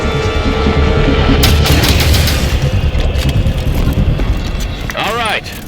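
Gunfire and explosions in the Halo 5 Guardians video game, a dense barrage of loud booms and shots amid engine rumble, ending with a sweeping whoosh.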